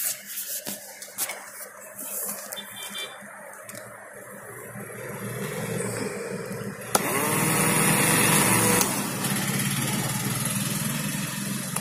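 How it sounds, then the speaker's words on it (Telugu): A small motor-driven generator in a school electricity-generation project whirs and hums close by, a thin high-pitched motor drone that grows louder and steadier partway through after a click, with no talking. "ఇప్పుడు నేను జనరేటర్ అనేది ఆన్ చేసి చూపిస్తాను ఫ్రెండ్స్"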